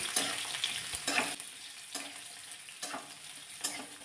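Chopped onion frying in a pan for kande pohe gives a steady, close sizzle, with a few sharper bursts where it gets stirred.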